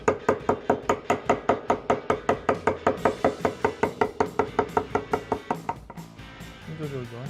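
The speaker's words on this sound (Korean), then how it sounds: "이렇게 타격을 하실 때도 계속 같은 방향으로 타격하면 아래로 쭉 파고 들어가겠죠" A wooden mallet strikes a chisel into wood while a rocking-chair seat is being carved, giving a fast, steady run of sharp knocks close by. The knocks stop near the end, and a voice follows.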